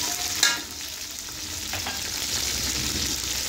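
Tomatoes, green chilies, ginger-garlic paste, spices, salt and boiled chickpeas fry in a pan for chana pulao, with a steady close sizzle and a brief spoon scrape and clink while stirring.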